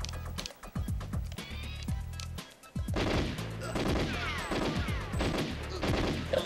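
Rapid gunfire in the video game GoldenEye 007, dense bursts of automatic shots and single cracks close up, briefly pausing before a louder sustained volley with ricochet-like tails.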